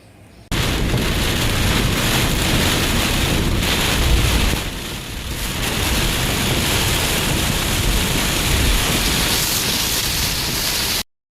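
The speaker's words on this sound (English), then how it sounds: "so it was raining pretty hard" Heavy rain pounds a car while it drives, a loud dense hiss and roar that starts abruptly, dips briefly midway and then holds steady before cutting off.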